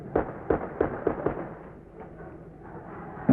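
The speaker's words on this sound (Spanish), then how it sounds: "Se escuchan también algunos disparos de armas de fuego." Several sharp gunshot-like bangs in quick succession, then a lull with distant noise and one more bang at the end.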